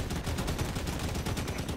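Sustained automatic shooting in a video game firefight, a dense string of evenly spaced loud shots rattling on without pause, close up and alone with no speech.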